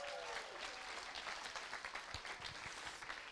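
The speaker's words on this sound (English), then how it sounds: "Give Eilish a round of applause." Applause from an audience welcoming Eilish to the stage at a Friday gathering, a steady wash of many hands clapping at moderate distance, sustained for a few seconds without a break.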